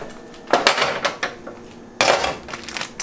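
Half a pound of ground meat dropped into a pan for lasagna, with clattering knocks of a utensil against the pan and a sizzling, scraping rush, close and moderately loud.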